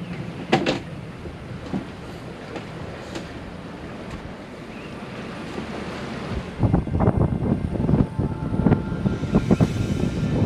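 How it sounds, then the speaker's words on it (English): Wind gusts buffet the microphone with broadband rumble aboard a sailboat, growing stronger and more turbulent in the second half, with no voices. "It's a little windy this morning."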